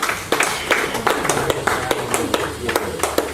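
Audience applause at a Nepali literary book launch ceremony, a steady crowd of clapping hands with sharp individual claps standing out, filling the room at moderate loudness throughout.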